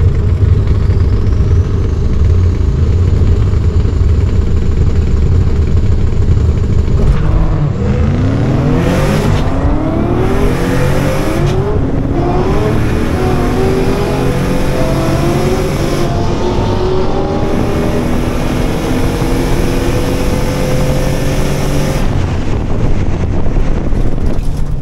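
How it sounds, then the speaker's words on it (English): A twin turbo Ford Crown Victoria with a manual swap and 4.56 gears races a Cadillac CTS-V, a loud in-car engine roar climbing through rising revs with gear-change breaks, under heavy wind noise. "So first pass out, we're going to race Aaron's CTSV."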